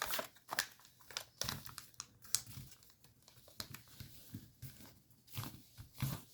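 Paper is being folded for an origami fighter jet, making quiet, close crinkles and crisp creases in uneven bursts that run throughout with no voice.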